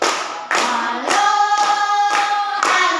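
Group of people clapping hands in a steady rhythm of about two claps per second, loud and close, over a sung patriotic song, Halo Halo Bandung, during a standing classroom sing-along.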